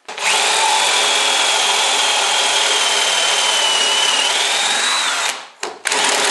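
A power drill bores steadily into a wooden door while fitting a door lock, with a loud high whine for several seconds, then it slows, stops briefly and starts again.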